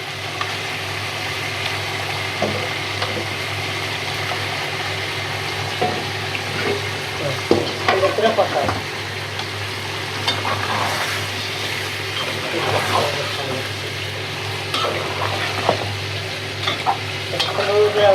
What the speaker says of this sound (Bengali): আমাদের এই যে মুরগিটা সুন্দর করে কষাইতেছি